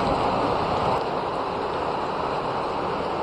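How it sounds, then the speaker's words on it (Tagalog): Heavy rain pours steadily in an outdoor setting on a road through a natural park, a dense, loud, continuous hiss with no breaks. "Ito, inabot na tayo ng tindi ng ulan oh."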